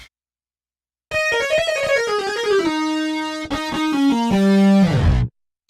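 A bright, soft synthesizer lead patch modeled on a keyboardist's sound plays a descending run of notes with a sustained tone in the middle, loud, close, and unaccompanied, with no talking.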